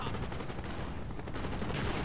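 Continuous gunfire in Call of Duty Black Ops, a dense rattle of rapid shots throughout, fairly faint and mixed with background battle noise.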